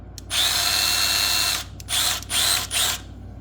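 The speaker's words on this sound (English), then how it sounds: "We're going to slide it into the drill." A Milwaukee 18-volt cordless drill, running on a battery pack with several bad cells, whirs loudly and close: a long high-pitched spin, then three shorter bursts with brief stops between.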